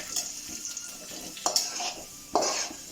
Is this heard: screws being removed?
no